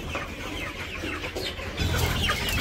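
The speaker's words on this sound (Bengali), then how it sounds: "সবগুলা মুরগি এই যে দৌড়াদৌড়ি করতেছে।" Village chickens gather at morning feeding, clucking and fussing continuously at close range, with a slight rise in activity toward the end. No voices are heard.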